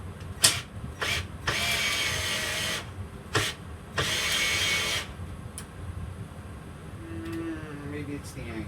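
A 12-volt cordless drill drilling into wood whirs in a few short bursts, with two longer runs, close by, followed by quieter handling noise.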